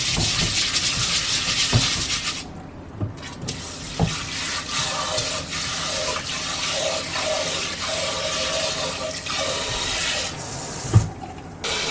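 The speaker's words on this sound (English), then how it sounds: "Pour out the first rinse water immediately." Water runs and splashes steadily as rice is rinsed and the cloudy water poured out, with occasional clinks and brief pauses in the flow, close by.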